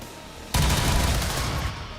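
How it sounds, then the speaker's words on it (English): A sudden sustained burst of gunfire as turrets are shot in XCOM 2, starting abruptly and holding loud and dense for over a second before tailing off, with no talking. "then we'll shoot one of the turrets"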